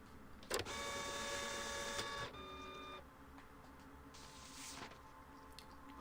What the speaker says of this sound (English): That printer always sounds like an angry animal devouring something.